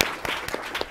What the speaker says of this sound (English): applause for this man